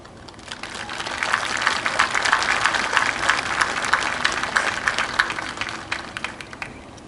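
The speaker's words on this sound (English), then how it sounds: "give your teachers and staff a round of applause" A large audience applauds at a graduation ceremony, dense steady clapping that swells after a moment, holds for several seconds and then slowly thins out.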